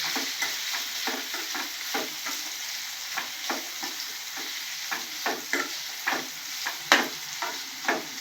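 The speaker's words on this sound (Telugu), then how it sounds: "కట్ చేసి పెట్టుకున్న పన్నీర్ పీసులు వేసుకోవాలి. లైట్గా ఫ్రై చేసుకోవాలి." Paneer pieces fry lightly in hot oil in a kadai, with a steady soft sizzle and repeated scraping stirs at a regular pace, close and moderately quiet, with no voices.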